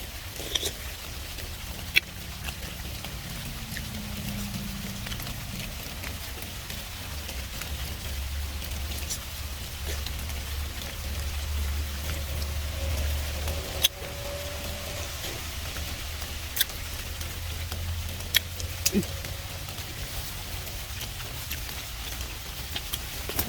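Rain falls steadily outdoors in a Thai setting, a soft continuous patter with occasional sharper drips, plus a low hum that rises and fades through the background.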